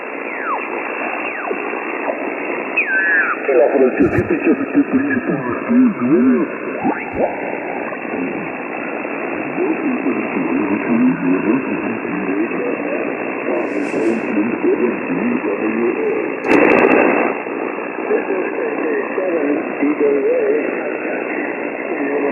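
Static on the 40 meter ham band from an Icom IC-7610 HF receiver: a steady, band-limited hiss with warbling, garbled faint signals, a louder crackling burst near the end, and no clear talk.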